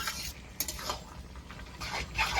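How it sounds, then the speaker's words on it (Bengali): Kulekhara greens wilting in a pan are stirred and mashed with a utensil, giving close, soft scraping and clinking strokes over a faint background of cooking noise. "এবার শাকটাকে নেড়ে চেড়ে একটু ঘেটে নেব"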